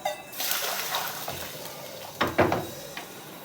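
Boiling water is poured into an oiled soapstone pot to season it. The short, splashy gurgling pour rises in a couple of bursts near the end.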